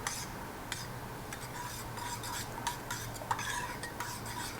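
Dissolved agar being stirred into boiling fruit juice in a pot, a steady close scraping and swirling of a utensil with light clinks against the pot, no voices.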